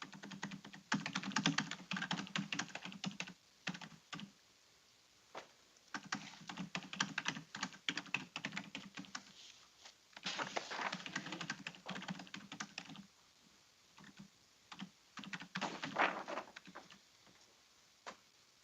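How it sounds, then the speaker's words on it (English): Steady typing on a computer keyboard in a courtroom setting, rapid clattering keystrokes in bursts with brief pauses, close and continuous for nearly twenty seconds with no talking. "Now I'm typing it to you."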